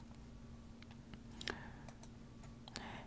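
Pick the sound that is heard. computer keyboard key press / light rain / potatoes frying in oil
computer keyboard key press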